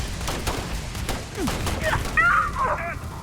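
Gunfire and a grenade blast in the sci-fi shooter Starfield, sharp vertical cracks repeating through the clip with brighter whooshing effects near the end, under an excited voice talking over the action.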